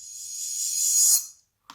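A reversed crash cymbal sample with its start trimmed, its hiss swelling steadily louder before cutting off abruptly, followed by a brief faint blip after a short silence.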